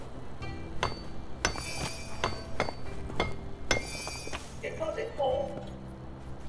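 A hammer striking in a video game, with a series of sharp metallic clinks and pings in an irregular rhythm, some ringing briefly.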